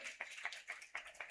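An audience claps along at a Hindu religious discourse with bhajans, the Shrimad Devi Bhagwat katha in Jamshedpur, in faint, rhythmic bursts roughly four times a second.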